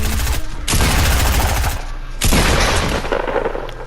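Video game gunfire: two loud, close blasts, each followed by a dense, sustained rattle of shots and a decaying tail, with no talking.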